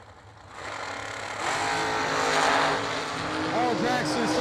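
Drag racing cars, a Mopar 440 in the left lane chasing a 490 dragster in the right, roar off the line and build to a loud, sustained engine howl, close and dominant, with rising pitch sweeps toward the end.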